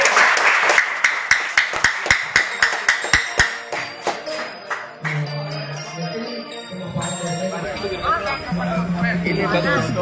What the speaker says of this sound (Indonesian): Oke, tepuk tangan buat kita semuanya.